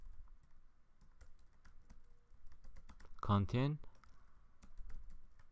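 Light clicking of computer keys being typed in short bursts, soft and close, while someone talks briefly over it.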